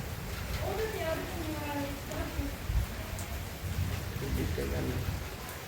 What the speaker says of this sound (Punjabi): ਆ ਗਿਆ ਮੀਂਹ ਦੇਖੋ